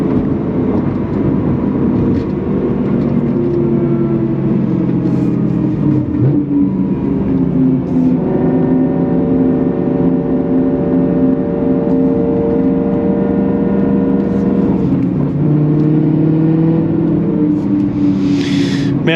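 A car engine drones loudly from inside the car as it is driven, rising and falling in pitch through steady revving and gear changes, with a constant road rumble underneath.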